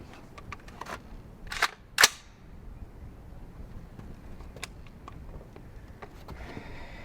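AR-15 rifle shots crack out at an outdoor range, two sharp reports close together followed by fainter distant pops over quiet background noise.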